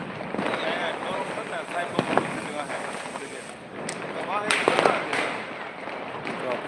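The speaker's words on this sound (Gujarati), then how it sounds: "સામે દૂર દૂર ફટાકડાનો અવાજ" Distant firecrackers bursting at a celebration outdoors, several faint pops and crackles scattered through the clip over steady wind and background hiss.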